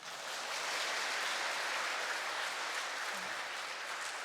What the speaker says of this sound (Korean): 오늘도 특별한 강의를 해주신 최승정 베네딕토 신부님께 다시 한번 큰 박수 부탁드립니다